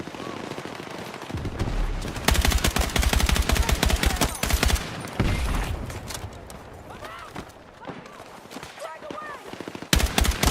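Rapid automatic gunfire from a video game, bursts of machine-gun fire crackling loud and close, broken by short lulls, with a voice talking over it.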